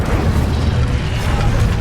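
An Incendio fire spell cast in Hogwarts Legacy, heard as a loud, sustained fiery whoosh and rumbling burst that roars steadily without pause.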